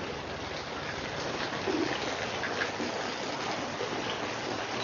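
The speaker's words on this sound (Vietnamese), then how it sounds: "Hôm nay trời mưa to lắm anh em ạ." Heavy rain falling outdoors during a motorcycle diagnostic-tool training session, a constant dense hiss of moderate loudness with no talk.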